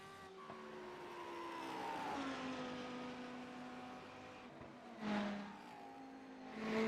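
Race car engine in a sim racing game, the car in Spanish police livery, with throttle blips rising and falling, a sharp rev surge near the end, and harmonic engine tones held throughout; no talk.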